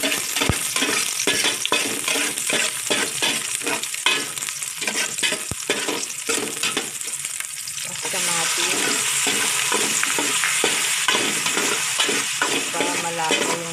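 Oil sizzles steadily in a pan while ingredients for pork sinigang fry, with rhythmic scraping stirs through the first half and a brighter, denser hiss after the food goes in; close and fairly loud, no talk.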